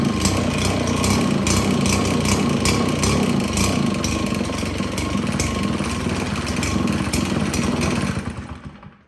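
A Husqvarna 570BTS backpack leaf blower engine sputters and revs loudly and continuously close by with a rough, clattering two-stroke drone, then dies away near the end.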